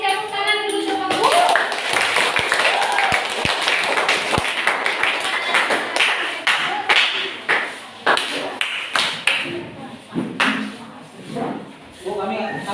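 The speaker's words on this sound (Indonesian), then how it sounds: "kita kasih tepuk tangan dulu sama Bu." A classroom of students clapping their hands, irregular scattered claps and sharp slaps that start dense and grow sparser, mixed with voices talking throughout.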